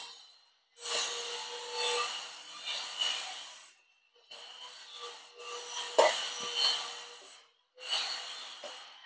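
Palm pulp batter and sugar mixed by hand, rough squelching rubs in several bursts separated by short silences, close and fairly loud.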